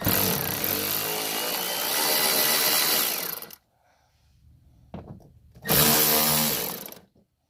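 A power tool on a 2017 Dodge Challenger Shaker undergoing a Hellcat conversion whines loudly for several seconds while running out 7 millimeter bolts, then stops, with a faint clink before a second close burst.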